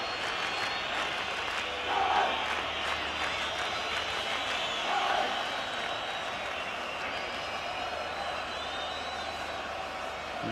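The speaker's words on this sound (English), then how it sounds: "Quite a few whistles going up from the crowd." A stadium crowd at the 1982 World Cup football match between Scotland and the USSR whistles shrilly, sustained high whistles over a constant roaring crowd murmur, with a few swelling cheers.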